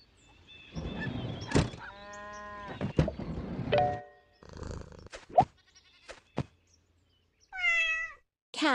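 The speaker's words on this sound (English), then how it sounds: "Cat." A cat in a children's first-animals game meows several times among short knocks and clicks, ending with a clear, rising-then-falling meow.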